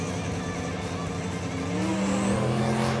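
Drag racing cars roar down the strip with a Corvette in front, and the engine noise is loud and steady. Rising engine tones and a high whine build toward the end.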